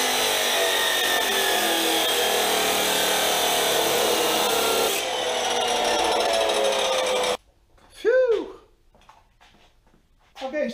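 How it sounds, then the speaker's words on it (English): An Evolution R255-SMS miter saw cuts loudly and continuously for several seconds, its tone shifting partway through, then stops and leaves quieter workshop sounds with a voice talking. "Okay, so this is my new miter saw."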